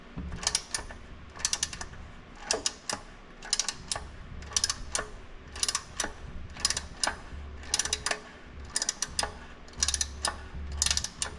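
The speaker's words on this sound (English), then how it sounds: "3/8 ratchet" A 3/8 ratchet with a socket loosens the oil filter canister on a Lotus Emira 3.5L V6, giving repeated close clicking bursts in a steady back-and-forth rhythm, about a dozen strokes, with no talk.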